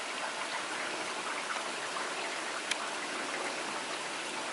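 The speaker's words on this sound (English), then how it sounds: "Let it rain, let it rain, let it rain." Steady rain falls outside on a rainy Sunday, a soft, even hiss of drops with one slightly sharper drip partway through and no voices.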